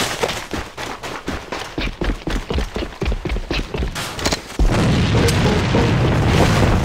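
Rapid gunfire cracks in steady bursts in the shooter AVA, then a heavy grenade explosion bursts into a sustained loud roar that fills the rest of the scene.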